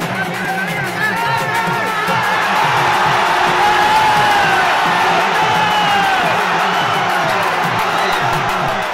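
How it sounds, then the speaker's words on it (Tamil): Devotees at the Aadi festival of Alagar Kovil temple near Madurai cheer and shout loudly and continuously, with whoops and excited voices rising over a dense roar of babble. "அழகர் கோவில் மலையை அதிரச் செய்த பக்தர்களின் பக்தி கரகோஷம்."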